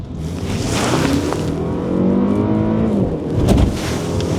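A Skoda Superb 1.8 TSI (180 hp, direct injection) engine revs hard and climbs steadily in pitch as it accelerates, loud and close, with a brief drop and surge near the end as traction is lost.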